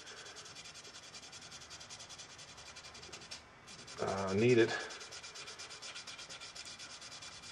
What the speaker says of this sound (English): by lightly sanding in this finish.